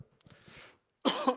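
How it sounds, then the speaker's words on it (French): A person who has been ill coughs twice, first a softer rough cough, then after a short pause a louder, harsher one, close to the microphone. "Je suis désolé, j'ai encore une petite toux, j'étais malade"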